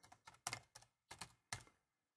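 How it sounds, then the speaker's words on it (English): Keystrokes on a computer keyboard while entering a layer filter name in AutoCAD 2013, six or seven quick taps in uneven bursts, close and quiet in an otherwise silent room. "Click in the name area here and type capital letter E."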